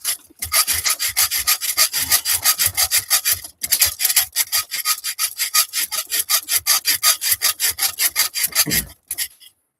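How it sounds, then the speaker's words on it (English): A hand saw cutting off an overlong RC car part that rubs on the steering servo: fast, rhythmic rasping back-and-forth strokes, loud and close, with two brief pauses before finishing. "Why am I sawing it off? Because it's rubbing on the steering servo."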